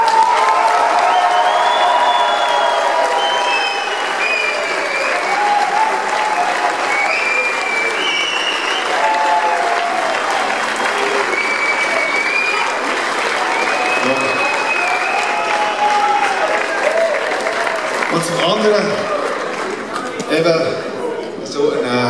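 A big rock concert crowd in a festival tent in Olten applauds a guest musician with sustained clapping, cheers and whoops, loud and close, swelling at the end with scattered shouts.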